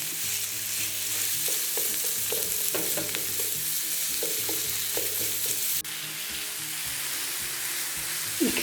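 Minced meat kofta pressed down and fried in a pan, a steady loud sizzle running throughout with intermittent scraping and clinks from the spatula, close up.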